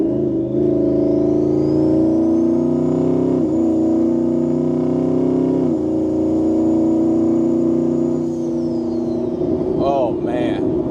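Turbocharged 1550whp Shelby F150 pickup accelerating, a loud sustained engine roar with a rising turbo whine heard from inside the cab, pitch climbing through gear changes.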